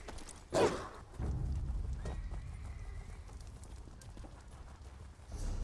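A horse pulling a cart in The Elder Scrolls Online neighs sharply, then hooves clip-clop and the cart rumbles steadily away at moderate volume, with no talk.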